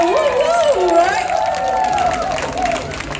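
Crowd at a Zumba countdown party clapping and cheering, with a loud voice calling out over the hubbub and music.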